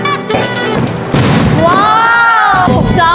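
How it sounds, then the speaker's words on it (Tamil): Diwali firecrackers thrown into water go off in loud close bursts and booms, mixed with excited voices and a whistling tone. "இந்த பட்டாசு வந்து தண்ணியில போட்டாலும் வெடியும்."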